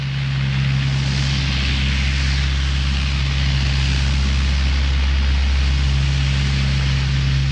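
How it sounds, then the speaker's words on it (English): A heavily loaded Hercules transport plane rolls down an airstrip for takeoff on an evacuation flight in 1971. Its engines produce a loud, continuous droning roar with a steady low propeller hum, and no voices can be heard. "As the giant Hercules lumbers down the runway for takeoff"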